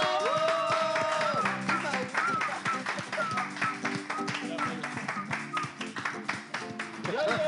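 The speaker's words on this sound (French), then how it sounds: "Est-ce qu'on peut applaudir" Clapping from a television studio audience, brisk and uneven, running under music and talk throughout.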